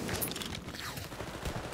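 Video game gunfire in Wolfenstein: Youngblood, a scattered burst of shots under a busy, fairly quiet mix of other game sounds.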